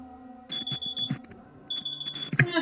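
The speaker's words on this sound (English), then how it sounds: "that was my alarm telling me I've got about 2 minutes left of the recording" Repeating electronic alarm beeps with a steady high tone, sounding as two bursts of rapid pulses with a short gap between them, fairly loud and close with no talking.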